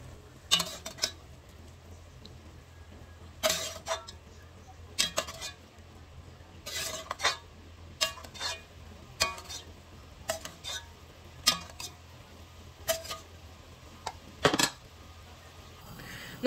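Fried bacon lardons are lifted from a pot with a metal skimmer for carbonnade, a series of sharp metallic taps and scrapes against the pot at an irregular pace over a faint background sizzle.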